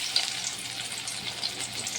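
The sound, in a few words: bhadali leaf fritters frying in hot oil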